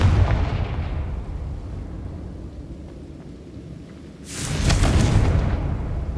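A Confringo fire spell bursting with a loud explosive boom in the Hogwarts Legacy video game, a sharp rumbling blast erupting after a low steady background rumble, close and dominant with no talking.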